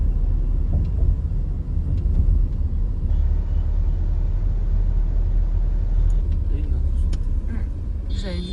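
A car driving in India, heard from inside the cabin: a steady low engine and road rumble with faint rattles, continuous and moderately loud.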